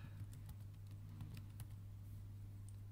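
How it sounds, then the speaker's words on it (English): Faint typing on a computer keyboard, with a scattering of light, quick keystrokes over a steady low electrical hum and no voices. "Let me just type that in for you"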